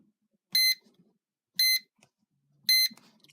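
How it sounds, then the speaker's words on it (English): Three short, high electronic beeps from a safe's keypad at a steady interval of about a second, each crisp and isolated, with faint handling noises between them. "You'll hear a long beep, the light will stay green, you'll hear a click"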